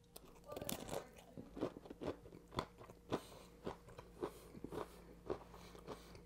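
Crunchy bites into a chocolate-chip cannoli with a creamy filling and imported shells from Mannino's in New Jersey: a steady run of crisp, close crackling crunches repeating about every half second, with chewing in between.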